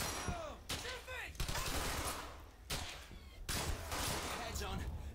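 Gunfire in the Brothers in Arms Hell's Highway video game: repeated loud bursts of rifle and machine-gun fire arrive in waves with short gaps, while voices shout over the battle.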